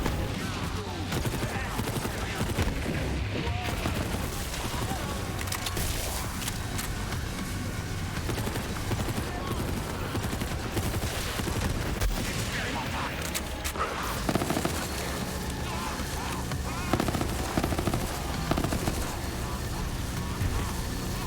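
Dense, continuous gunfire from the video game Borderlands 3, bursts and fusillades crackling loudly throughout amid game effects, with speech mixed in.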